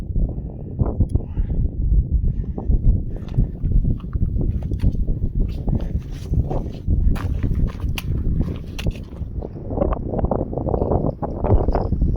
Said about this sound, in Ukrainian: Вітер непоганий.